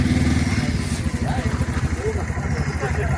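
A scooter engine idles with a steady low throbbing rumble throughout, close by, with a voice talking over it.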